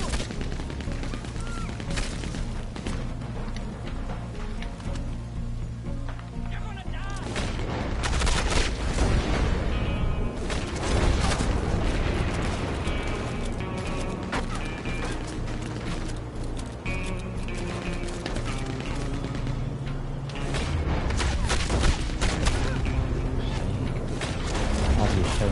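Gunfire and heavy mechanical clanking from a tank in Red Dead Redemption 2 play out as a dense, continuous battle din with repeated shots, creaks and booms swelling louder midway and again near the end.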